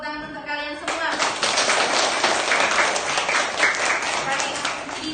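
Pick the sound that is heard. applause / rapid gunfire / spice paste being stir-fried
applause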